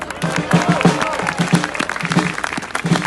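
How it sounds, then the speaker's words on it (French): A crowd at a Les Patriotes political rally applauds loudly and steadily, with cheering voices and talk mixed into the clapping throughout. "Merci Alexis, qu'on peut applaudir très fort"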